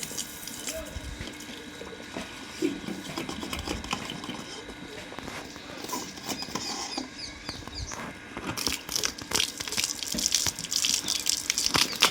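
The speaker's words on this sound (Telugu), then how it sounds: "బావి మళ్ళీ నిండిపోయింది చూడండి" Water splashes and trickles into a well as it refills. The sound is faint and close, with uneven patter and gurgling that grows slightly busier toward the end, and there is low background noise.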